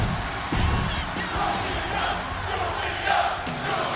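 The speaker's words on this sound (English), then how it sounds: "The crowd's cheering for Julia and Sol Ruka walking out on the outside" A crowd cheers in the WWE 2K26 wrestling game, a broad arena roar with swelling yells and whoops, loud and continuous in the background.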